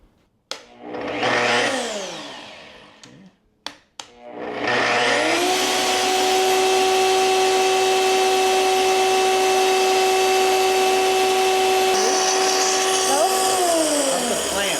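A track saw spins up and then holds a steady, loud whine while cutting through wood for a kitchen remodel, after a brief earlier start and stop, with clamp clicks near the beginning.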